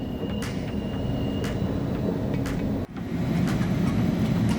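Steady low rumble of a moving train carriage, with faint rattles and a short dip in the noise partway through.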